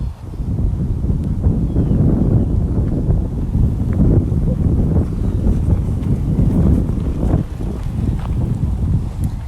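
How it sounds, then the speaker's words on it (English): Steady wind buffets the microphone at a big cat rescue in Tampa, Florida, a continuous low rumble with gusty swells throughout and no clear voices. "it got so windy"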